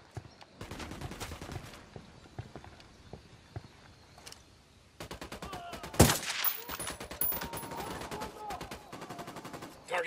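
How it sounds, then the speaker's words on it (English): Gunfire in the video game Ghost Recon Wildlands comes as sharp single shots followed by dense bursts of rapid automatic fire, loud and close, with brief pauses between volleys. "I'm shooting these fuckers. Get ready. Fire."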